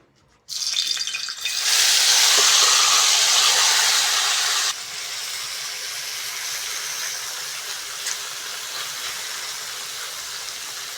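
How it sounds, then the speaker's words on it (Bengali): Small chuno fish dropped into hot oil in a kadai burst into a loud, bright sizzle that holds steady for a few seconds, then drops to a softer continuous frying hiss, close and without talk. "তেল ভালোভাবে গরম হয়ে গেছে মাছটা দিয়ে দেবো"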